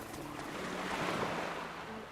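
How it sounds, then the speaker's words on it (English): Waves lapping at the shore in the video game Anuchard: a steady soft wash of surf that gently swells and recedes, heard alone with no talk. "listening to those waves lapping at the shore"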